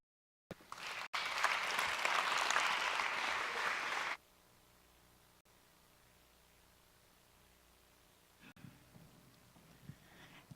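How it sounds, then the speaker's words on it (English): Audience applause fills a church hall during a Sunday service, a dense burst of clapping lasting about three seconds before dropping to quiet room tone, with faint scattered sounds near the end. "I'm going to ask y'all to give a round of applause"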